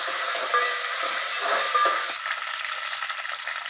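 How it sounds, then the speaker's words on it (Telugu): Curry leaves, green chillies and carrot dropped into hot oil with peanuts and tempering spices, giving a steady close hissing sizzle with faint crackles throughout. "కరివేపాకు వేస్తున్నా."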